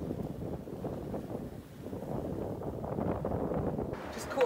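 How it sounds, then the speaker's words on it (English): Strong wind of around 37 knots blows across a sailboat running downwind at about 9 knots, giving a continuous rough buffeting roar with rushing water underneath that grows louder toward the end. "We're doing 9 knots, so that's 37 knots of wind."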